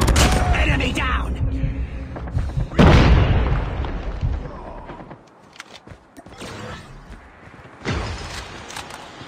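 Grenade explosions and gunfire in the mobile shooter game Call of Duty Mobile, with heavy booms and bursts of shots, loud and close, followed by fainter blasts and rattling fire.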